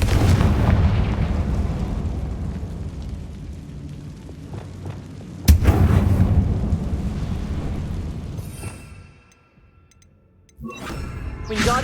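A Confringo blasting spell explodes in Hogwarts Legacy. A deep rumbling blast is followed by a sharp second burst with a long rolling decay, then a near-silent lull before more noise rises at the end.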